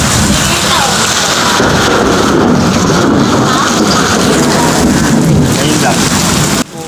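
Heavy rain pours steadily, a loud, dense hiss of drops pounding surfaces that holds unbroken for several seconds before cutting off abruptly at the end.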